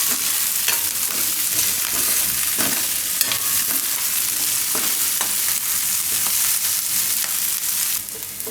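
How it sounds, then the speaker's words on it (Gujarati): Carrots fry with onions in a pan, giving a continuous loud sizzle broken by intermittent scraping clicks as the vegetables are stirred. "હવે એમાં નાખી દેવું આપણે આ ગાજર. તો ગાજરને થોડીક વાર પકાવી લેવું."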